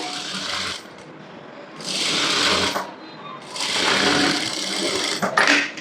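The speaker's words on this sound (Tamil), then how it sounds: "அதுக்கு டர்னிங் ஸ்டிச் போட போகிறேன்" A sewing machine runs a turning stitch along a blouse lining in loud, close bursts of whirring. It stops briefly between runs and ends with a few quick clicks.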